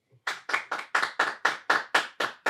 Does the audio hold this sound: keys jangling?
no